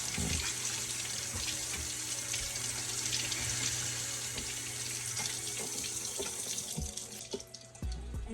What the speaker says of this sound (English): And then I just rinse it off.